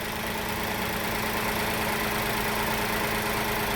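A Honda N-WGN engine idles with a rough, uneven rumble, a continuous low throb with slight irregular knocking, close by and with no talking.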